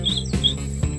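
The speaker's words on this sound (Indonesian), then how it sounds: "sepertinya ada suara burung yang lagi ngumpul" Short high chirps from small birds, Java sparrows, repeat a few times, clear and fairly close, with soft knocks underneath.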